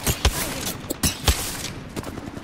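Video game gunfire in rapid bursts, several sharp close shots in quick succession with brief pauses between, moderately loud with no talk over it.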